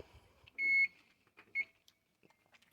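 A kitchen oven beeps as it is started to finish cooking Brussels sprouts and ham: two distinct electronic beeps, the first longer, close and clear, followed by faint clicks and quiet handling in a calm room.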